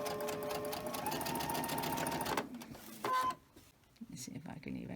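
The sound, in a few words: sewing machine starting to stitch quilt fabric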